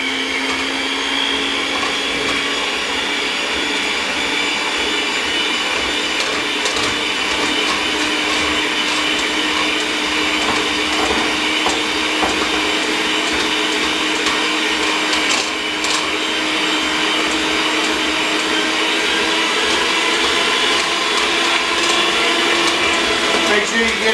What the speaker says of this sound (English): take our dough hooks to make the dough. Mix it up to make a dough.